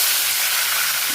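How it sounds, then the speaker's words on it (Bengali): Fish pieces frying in hot mustard oil with onions for a spicy katla kalia curry, giving a steady close hiss and sizzle throughout, no voices. "সর্ষের তেল খুব ভালো করে গরম হয়েছে, পরে আমি মাছের পিসগুলো এর মধ্যে দিয়েছি"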